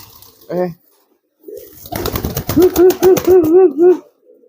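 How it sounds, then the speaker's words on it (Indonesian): A merpati kolong pigeon from Tegal coos close by in a quick, steady series of about six rising-falling calls, with someone talking over and around them. "Ini jenisnya merpati kolong"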